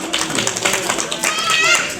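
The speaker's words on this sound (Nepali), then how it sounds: "ताली बजाउँदैछ सबैजनाले यहाँ" A crowd claps together at a school Saraswati Puja event, a dense, steady wash of many hands lasting throughout, with voices mixed in underneath.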